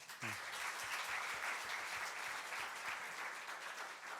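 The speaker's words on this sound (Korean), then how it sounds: "우리 박수로 환영합니다." Steady applause from a church conference audience, dense and sustained throughout, fairly distant and even in loudness with no voices standing out.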